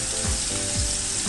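Butter is added to a hot pan beside a frying fillet steak, producing a brief, dense, loud sizzle that holds steady for about a second with no talking.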